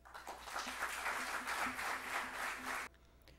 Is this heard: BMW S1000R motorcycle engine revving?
no